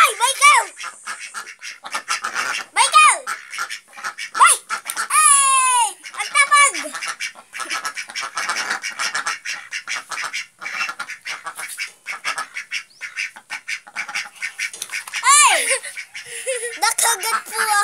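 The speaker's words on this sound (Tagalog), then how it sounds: "Ito po ang mga itik." Several ducks quack loudly and repeatedly close by, in bursts with short pauses, while people talk over them.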